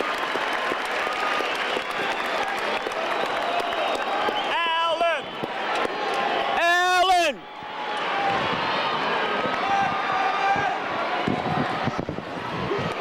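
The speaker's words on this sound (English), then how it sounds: "And the crowd is there." A capacity crowd at Tiger Stadium applauding and cheering Alan Trammell's final game, a sustained roar of clapping with a commentator speaking over it and whistles rising partway through.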